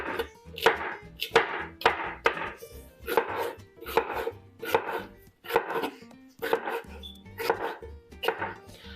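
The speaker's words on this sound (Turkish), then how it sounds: "Kapya biberlerimizi de bu orantıda doğruyorum arkadaşlar." Knife chopping sweet red peppers on a cutting board, loud close rhythmic thuds in evenly spaced bursts, with no talking.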